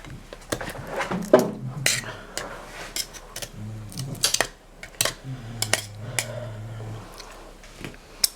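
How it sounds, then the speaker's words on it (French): A knife scrapes and clinks against a dish while cutting tartiflette, a busy run of metallic taps and scrapes close by, with people talking in French over and between the sounds. "Prends ton couteau pour couper."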